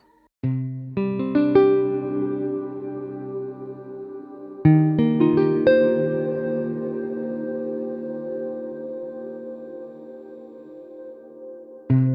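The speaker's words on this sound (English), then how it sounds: "a granular style reverb based on Native Instruments realm" Two strummed electric guitar chords ring out through a granular reverb based on Native Instruments Raum, each swelling into a long shimmering, smeared tail that sustains and slowly fades.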